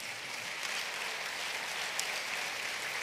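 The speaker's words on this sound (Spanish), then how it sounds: "un aplauso al Señor" A church congregation claps in praise to the Lord, a steady, soft wash of many hands heard from a distance, continuous and even for a few seconds with no voices standing out.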